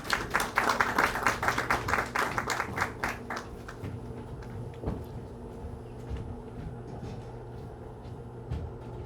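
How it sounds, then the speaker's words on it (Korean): Audience applause welcoming a lecturer at an international academic conference at a theological university, a dense burst of clapping for the first few seconds that thins out into scattered claps and room noise. "박수로 또 환영해 주시면 좋겠습니다."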